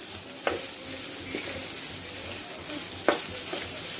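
Shark fish curry frying in plenty of oil on a low flame, a steady faint sizzle with a few sharp scrapes of a spoon stirring the pan.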